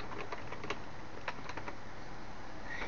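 Someone types a short command on a computer keyboard, a quick run of light clicky keystrokes close by with brief gaps between presses, no voices.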